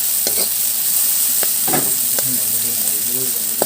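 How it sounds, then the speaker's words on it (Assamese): Shewali flowers with a little salt for khar are stirred in a frying pan, giving a loud, constant sizzle broken by sharp utensil clicks and scrapes, with a voice briefly talking toward the end. "3 মিনিট, 4 মিনিট এনেকৈ লৰাই থাকিম"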